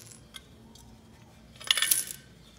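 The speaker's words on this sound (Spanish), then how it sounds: "Sí, son puras monedas." A short, bright shower of coins pouring out of a savings container rattles and clinks up close, preceded by a few faint scattered taps in an otherwise quiet room without speech.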